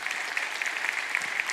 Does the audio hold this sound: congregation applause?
yes